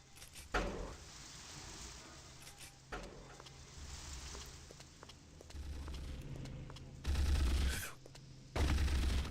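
Turrets firing in the video game Mortyr 2093-1944 make a steady stream of gunfire at moderate level, with heavier low bursts of sound toward the end.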